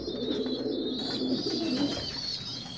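A pigeon coos softly and continuously at close range, a low throaty murmur against a faint background hiss.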